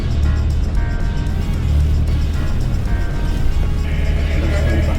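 A Twisted Land Rover Defender off-roading, its engine a loud, steady low drone with a continuous rumble and faint higher whine, close and unbroken, with no talk.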